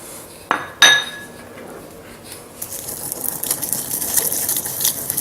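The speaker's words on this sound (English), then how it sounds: "Now we're going to grind up our toasted spices in the pestle and mortar." Toasted spices ground in a pestle and mortar: two sharp clinks of the pestle against the bowl near the start, then steady gritty scraping and rasping that grows busier and louder toward the end, with no talking.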